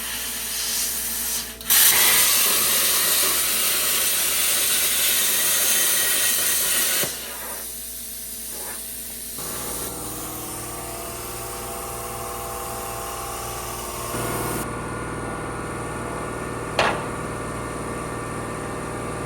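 A power tool cuts metal on a 1968 Impala with a loud, harsh, hissing grind that runs for several seconds. It then drops to a lower whine with shifting pitch, and ends with a brief sharp hit.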